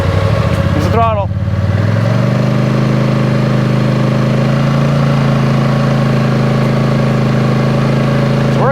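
A Polaris Sportsman 850 Highlifter Edition ATV engine runs in thick mud, a loud steady drone that dips and settles into a constant idle-like hum. A voice talks briefly at the start.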